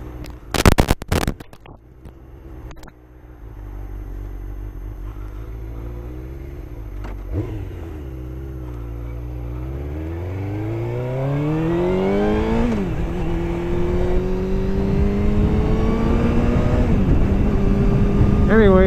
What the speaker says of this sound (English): Not getting anywhere fast. Rush hour traffic.